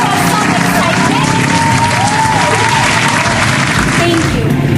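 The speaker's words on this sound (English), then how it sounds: "can we have some big round of applause?" Loud, sustained applause from a school show audience fills the whole stretch, dense crowd clapping with some cheering and voices mixed in throughout.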